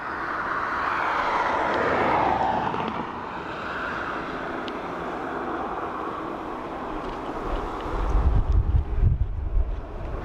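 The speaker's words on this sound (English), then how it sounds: "So 757 United from Chicago coming in next inbound." A United Boeing 757 inbound from Chicago approaches Dublin Airport, its steady engine roar mixed with wind noise on the microphone, swelling with a deeper low rumble near the end.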